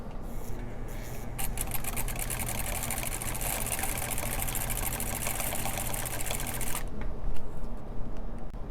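An oiled Singer 306 sewing machine with a new belt runs a straight stitch, a fast, even mechanical whir and rapid needle ticking that stops abruptly near the end, leaving a quieter hum.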